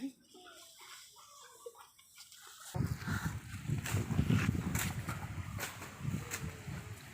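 Warm water starts pouring after a quiet moment, becoming a steady splashing rush that continues to the end, with voices talking over it.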